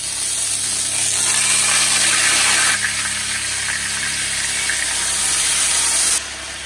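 Tri-tip beef sears in smoking-hot olive oil in a pan, giving a loud, steady, close sizzling hiss that holds evenly and then drops slightly near the end.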